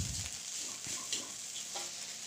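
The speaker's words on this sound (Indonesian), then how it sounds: "Setelah bumbu dan nasi putih tercampur rata ya, yang masih bergerindil-gerindil, kita ratakan lagi, kita tumis-tumis." Nasi goreng with anchovies is stir-fried in a pan, rice and spice paste scraped and tossed: a continuous sizzle with scattered scraping and stirring strokes, close and fairly quiet.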